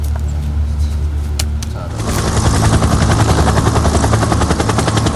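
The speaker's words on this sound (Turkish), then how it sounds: "Helikopter sesi miydi?" A helicopter's rotor chop swells in and grows loud, a heavy thumping drone that soon dominates the scene after a quieter opening.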